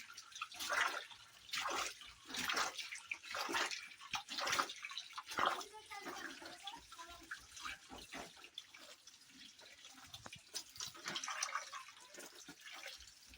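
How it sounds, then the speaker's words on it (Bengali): Tap water runs over a net holding small red insects being rinsed, a steady splashing flow with irregular surges and drips, close by, while a person talks over it. "কলের জল দিয়ে পরিষ্কার করে ধুয়ে নেবো"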